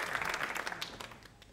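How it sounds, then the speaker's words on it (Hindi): An audience at a televised quiz show on the Prime Minister's first year breaks into brief applause, the clapping fairly close and fading over about a second and a half. "प्रधानमंत्री जी को तालियां जोरों से बजनी चाहिए"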